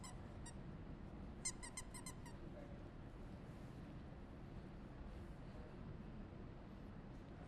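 A small dog's squeaky toy is squeezed indoors, giving a short burst of several quick high squeaks followed by a few more, over steady low room noise.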